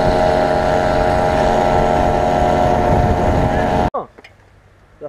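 A moped engine running on the road, a steady loud droning buzz with wind rushing past that cuts off abruptly near the end, leaving quiet rustling.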